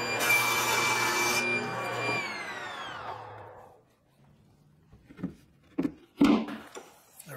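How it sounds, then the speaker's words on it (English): A saw with a crosscut sled cuts through wood while building rolling shelves: a loud whining cut lasting about two seconds, then the blade winds down, followed by a few faint knocks and bumps. "And now I'll move the fence out of the way and let the crosscut sled work."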